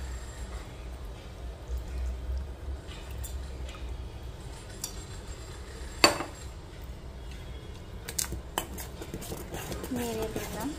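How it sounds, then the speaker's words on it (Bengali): Sago kheer stirred in a pot, with soft background rumble, occasional metal clinks of a spoon against the vessel and one sharper knock, low and close. "নেড়ে দিলাম"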